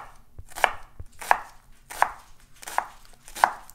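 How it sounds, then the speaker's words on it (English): A knife chops through an onion on a cutting board with five crisp, evenly spaced strikes, each a close, sharp thunk with a brief crunch. "that's how you chop an onion"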